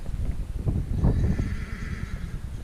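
A horse neighs in an open field during a rabbit and pigeon shooting outing, its whinny rising in the middle and fading out over a steady wind-blown background, with no one speaking.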